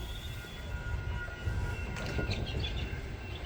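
Interior ride on an LA light rail train near 26th St/Bergamot station in Santa Monica: steady low rumble of wheels and car motion, with faint high squeals and rattles, continuous and fairly close, no talking.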